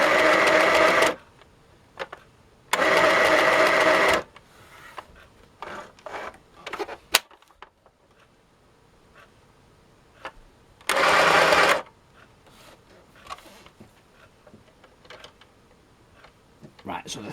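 Daniel James AGP2622 portable sewing machine running in loud, steady bursts of stitching, three runs of about one to two seconds each, separated by quieter handling clicks and thread fiddling.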